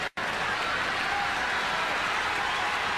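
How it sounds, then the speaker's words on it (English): A tennis crowd at the 1987 WCT Finals in Dallas breaks into sustained applause and cheering, a dense, steady roar of clapping that follows a brief silence at the start. "Crowd really stirring him on."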